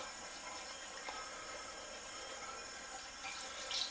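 Tap water runs steadily and quietly for a razor rinse during a wet shave, a soft continuous hiss and trickle with a slight splash near the end.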